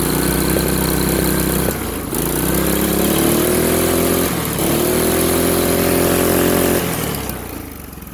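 A Honda GX200 engine on a mini ex-rental go-kart runs loud and close, revving up and down in surges with brief dips before fading as it nears stalling.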